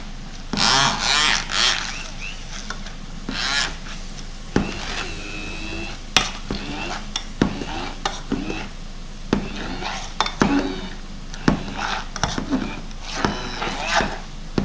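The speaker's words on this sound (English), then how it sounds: "Mashed potato always happens to be fun when you're mashing it" Potatoes mashed by hand in a bowl with butter, irregular soft thuds and utensil clinks against the bowl, close and fairly quiet, with a person talking over the work.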